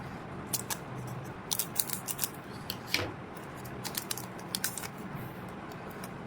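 A One Piece trading card pack being opened up close: crisp crinkling and rustling of the wrapper with scattered sharp snips and tearing flicks, irregular and fairly quiet, with no talking.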